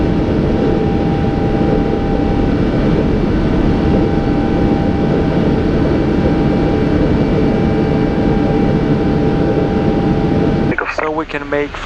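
Lufthansa Cargo Boeing 777F climbing after takeoff as the landing gear retracts, a loud, steady engine roar filling the cockpit, ending with a brief burst of radio chatter.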